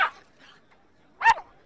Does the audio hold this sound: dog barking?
yes